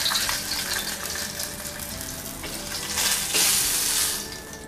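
Steady crackling sizzle of fish frying in hot oil, close and continuous, swelling louder near the end with no talking.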